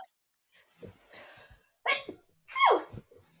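Two loud, close sneezes about half a second apart, the second sharper, preceded by soft breathy sniffs.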